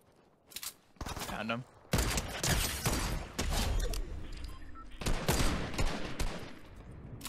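Rapid bursts of gunfire in the video game Fortnite, dense overlapping shots and loud blasts in close succession with brief gaps, under a short spoken line from a player.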